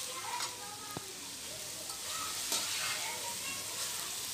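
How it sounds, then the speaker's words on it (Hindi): Cabbage and vegetables stir-frying for chicken chow mein: a steady bright sizzle runs throughout, with occasional stirring scrapes and a sharp clink, close by and without talk. "मिक्स करेंगे और फ्राई करेंगे।"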